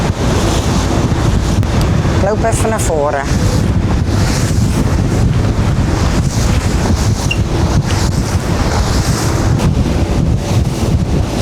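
Rough, choppy water and strong wind buffet a boat leaving Volendam under a storm warning, a loud constant roar of gusts and surging waves close to the microphone, with someone speaking briefly over it.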